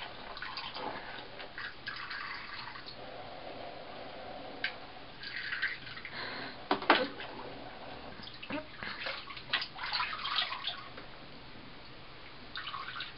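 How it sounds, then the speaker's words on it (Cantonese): A shower spray rinses a bath, an uneven run of hissing water with drips, and louder splashing bursts partway through and again toward the end. "沖花灑涼啊"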